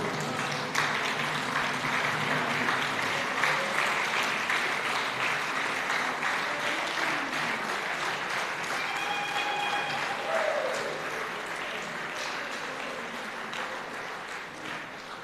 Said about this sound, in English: Can you all stand up and give her a round of applause